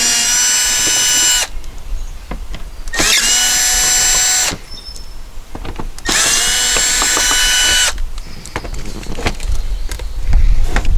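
A power drill spins out 7mm screws from the front bumper of a 2007 GMC Acadia, three loud, close whirring bursts of about a second and a half each with short pauses, then lighter clicks and handling noise.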